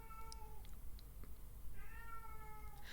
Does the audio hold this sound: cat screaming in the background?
yes